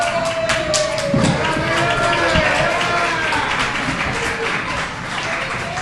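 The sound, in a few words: applause after softball ceremony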